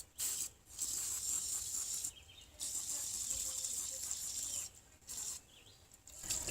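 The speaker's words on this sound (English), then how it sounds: "this is just literally some El Cheapo brake clean" Cheap brake cleaner sprayed from an aerosol can onto a car radiator, heard as steady hissing bursts of spray separated by short pauses, fairly close and moderately loud with no talking.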